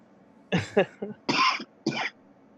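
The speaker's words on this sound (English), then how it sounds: "With the cough and everything" Several harsh, close coughs in quick bursts, rough and throaty, with short pauses between them.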